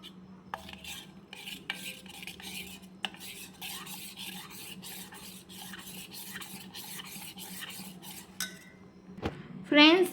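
A spoon stirs and scrapes around a bowl of yogurt and sugar up close, clinking in a repeated rhythm, ending with a brief louder clatter.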